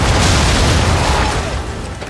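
Deep booming cannon fire on an Assassin's Creed III battlefield, a dense continuous rumble of blasts that stays loud throughout and eases slightly toward the end, with no voices.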